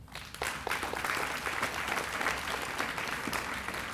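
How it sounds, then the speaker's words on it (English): A graduation audience at a virtual academy ceremony breaks into steady, full applause after a brief pause, many hands clapping continuously at moderate distance. "give yourself a round of applause for all the hard work that you have done"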